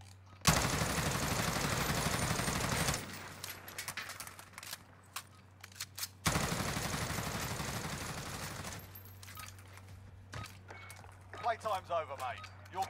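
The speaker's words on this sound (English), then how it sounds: "the XM4 in this game has some of the easiest recoil I've ever seen" Gunfire from an XM4 rifle in Call of Duty, with two long sustained bursts of rapid automatic fire, each lasting a few seconds and separated by quieter stretches of scattered in-game sounds and footsteps.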